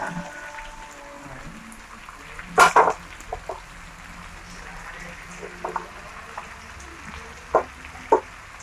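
Bitter gourd (ampalaya) sautéing in a pan gives a soft, steady sizzle, broken by a few sharp clattering stirs and scrapes of a utensil at irregular moments.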